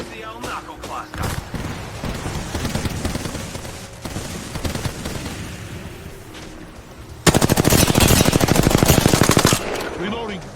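Rapid automatic gunfire in the video game Apex Legends, sustained bursts throughout with a dense, loud volley near the end, up close, with a player's voice talking over parts of it.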